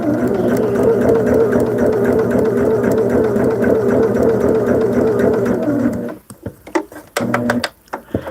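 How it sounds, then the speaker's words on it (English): A sewing machine stitching fabric along a marked line for a quilt sampler, running as a close, steady, even mechanical whir for about six seconds before stopping, followed by a few short clicks and handling noises. "we're just going to stitch on this line"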